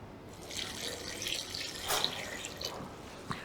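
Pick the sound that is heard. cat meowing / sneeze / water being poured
water being poured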